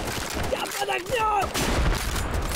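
Gunfire fills a World War II battle in the video game Easy Red 2, with dense overlapping shots and a voice speaking over the constant noisy combat.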